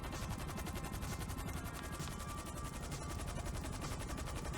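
Sustained automatic assault rifle fire in GTA 5, a dense rapid stream of shots held steadily for the whole stretch with no pauses, loud and close.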